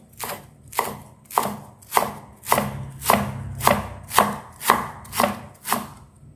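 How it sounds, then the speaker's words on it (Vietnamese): A knife chops spring onions and betel leaves on a board in about ten even, crisp strokes, each one a close sharp thud with no speech. "Hành lá và rau lá lốt này các bạn sẽ thái nhỏ cho mình nhé"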